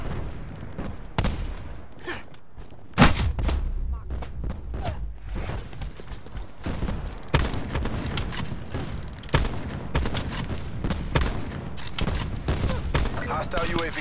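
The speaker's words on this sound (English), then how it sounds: "Enemy sniper firing." Sniper rifle shots ring out during a video game firefight, sharp cracks recurring amid dense in-game gunfire, explosions and radio chatter, with spoken voice callouts layered over the steady noisy battle.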